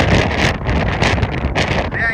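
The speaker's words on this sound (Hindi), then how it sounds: "आंधी आ गई भैया, 30-32 की हवा चल रही है।" Strong wind of about 30-32 blows during a kite-fighting match between Dehradun and Lucknow teams, roaring loudly across the microphone in gusts, with talk partly mixed in.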